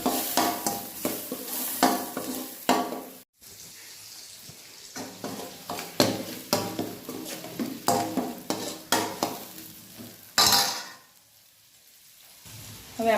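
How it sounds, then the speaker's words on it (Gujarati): A spoon stirs onions and tomatoes with turmeric and salt in a hot pan, scraping in repeated rhythmic strokes over a soft sizzle, with a brief pause partway and a quieter simmer toward the end. "થોડીક વાર હલાયા જઈશું, પણ એમાં એડ કરીશું થોડી હળદર અને થોડું મીઠું"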